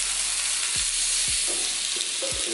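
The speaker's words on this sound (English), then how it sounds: "So go ahead and get this chicken in here. Goal here is to sear." Chicken searing in a hot pan, with a constant loud sizzle and a few dull thumps at regular intervals, close up and without speech.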